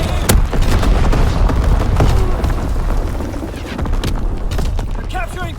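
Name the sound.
artillery strike explosions in a WW2 video game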